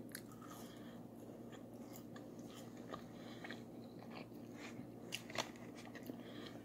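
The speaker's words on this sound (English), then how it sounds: "You guys having fun just watching me chew?" Someone chews McDonald's food close to the mic, soft wet bites and crunches over a steady low hum, with no talking.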